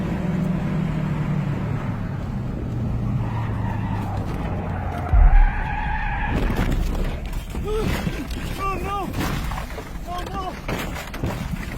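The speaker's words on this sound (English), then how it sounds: "He was left skidding towards the edge" A car skids out of control on a sharp mountain turn, tires squealing in rising, wavering screeches over engine and road rumble, loud and close, with a thud partway through.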